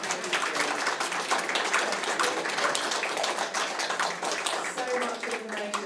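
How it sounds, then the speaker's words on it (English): Audience applause for a journalism guest panel at a university event, a steady continuous patter of many hands clapping at moderate distance, with a voice faintly audible underneath. "Can we give them a round of applause?"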